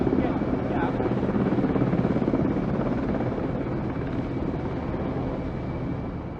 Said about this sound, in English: a fuel hose can be passed up so a helicopter can refuel without landing